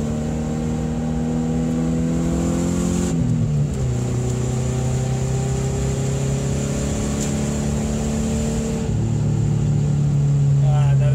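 A car on snow tires revs up hard with rising pitch and a little wheel spin on a snowy road, drops back briefly as gears shift, then climbs again under steady road noise.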